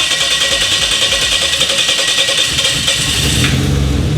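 Nissan RB30 engine with a triple compound turbo setup in a VL wagon cranking and catching, a loud rough mechanical churn with a rising rumble near the end as it fires.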